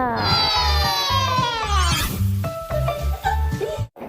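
A cat gives a long drawn-out meow followed by several shorter mews, loud and close over a steady rhythmic backing beat.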